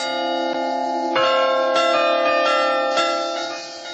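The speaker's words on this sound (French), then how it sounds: "dehors, à la place des canons, sonne le carillon pour les offices" Several church carillon bells ring in a steady sequence of overlapping strikes for services, their sustained tones blending into a bright, continuous peal with no voices.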